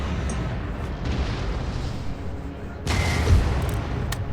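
Cannon firing solid shot in a Napoleonic-era battle in Empire: Total War, heard as a loud booming blast near the three-second mark over a continuous rumble of battlefield gunfire and explosions.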